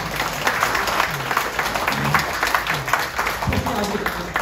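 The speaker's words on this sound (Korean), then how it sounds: "박수 한번 부탁드리겠습니다" Audience applause at a Korean book launch for a poet's poetry collection and memoir, steady clapping from a crowd as middle-school alumni stand, with voices talking over it throughout.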